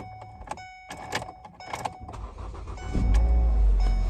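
A repaired Ford Focus, fixed for vibration, runs close by with a steady, even engine hum. The hum rises and holds firm after some clicks and rattles of the key and car controls.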